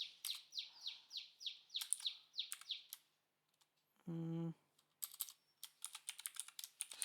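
Keys clatter on a computer keyboard in quick, uneven bursts close by, broken by a short pause and a brief electronic tone before the typing resumes.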